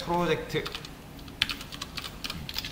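Computer keyboard being typed on to name a new folder, soft quick key clicks in a brief run, following a short spoken phrase at the start.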